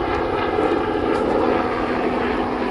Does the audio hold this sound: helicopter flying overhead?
yes